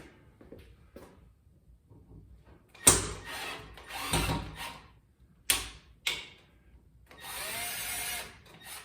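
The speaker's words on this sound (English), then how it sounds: "My drill's really getting bad" A weak, failing power drill whirs in several short bursts while removing treadmill end caps, stopping and starting with clunks and handling noises between, close by and without talk.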